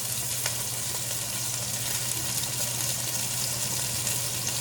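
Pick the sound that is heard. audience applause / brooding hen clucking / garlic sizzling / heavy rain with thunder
garlic sizzling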